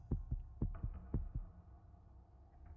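Heartbeat in the Tiny Bunny horror game, a series of deep double thumps at a steady rhythm that fades after a few beats, alone over a faint low hum.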